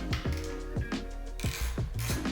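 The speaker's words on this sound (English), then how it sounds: "I'll be working with a 5mm hex socket to remove the screws for the rear body panels." A ratchet with a 5mm hex socket loosening rear body panel screws on a Triumph Tiger Sport 660 motorcycle, rapid close clicking pawl bursts in short repeated strokes.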